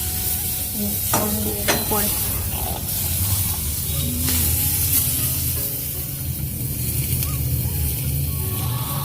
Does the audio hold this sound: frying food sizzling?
yes